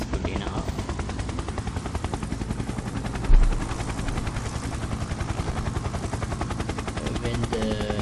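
A helicopter in an Unreal Engine simulation flies close and loud, its rotor chopping in a fast, even rhythm throughout with one brief thump partway through; someone talks over it.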